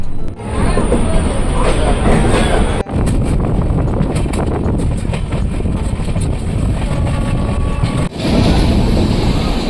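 Golconda Express passenger train running past a station, a loud continuous rumble of wheels and carriage noise throughout, with brief dips and occasional rattling bursts close by.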